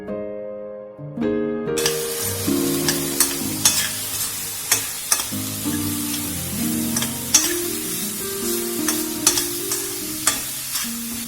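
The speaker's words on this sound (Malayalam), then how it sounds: "ഇതും നല്ല ഹൈ ഫ്ലെയിമിലിട്ട് വഴറ്റുക. ചിക്കനൊക്കെ ഒരു വെളുത്ത നിറാവുന്ന വരെ ഇത് വഴറ്റിയെടുക്കുക." Chicken stir-frying over high flame for chicken fried noodles, with loud close sizzling and sharp rhythmic scrapes and knocks of a spatula against the pan; a musical tone sounds at the start and faint music plays underneath.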